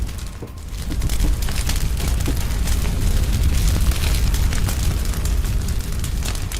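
An attack on a Ukrainian military vehicle on a highway brings a loud, sustained roar of explosion and burning, with dense rumbling and scattered crackles and pops close by. No voices are heard.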